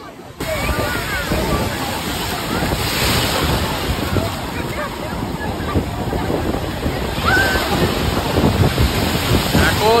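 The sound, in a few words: big ocean waves breaking on the shore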